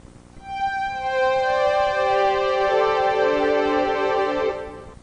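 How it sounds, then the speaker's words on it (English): A MIDI slave synthesizer voiced with strings swells in with a sustained chord that shifts once midway, smooth and full, heard alone for about four seconds before fading. "The slave device sounds like strings."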